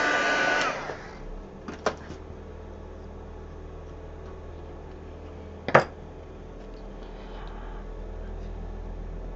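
A heat tool blows hot air to melt metallic embossing powder on white cardstock, a continuous whirring fan drone throughout, with a couple of brief clicks and a sharper knock near the middle.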